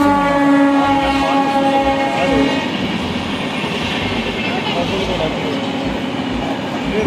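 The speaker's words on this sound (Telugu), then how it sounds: "ఇక్కడ ఒక సైడ్ ట్రైన్స్ వెళ్తూ, ఒక సైడ్ రోడ్ మీద వెహికల్స్ వెళ్తూ" Train passing close beside an outdoor roadside restaurant, with a loud horn-like tonal blast over the first few seconds, then continuous rumbling rail noise and traffic wash throughout.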